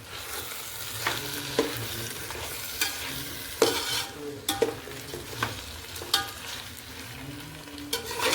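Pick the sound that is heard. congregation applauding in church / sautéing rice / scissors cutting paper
sautéing rice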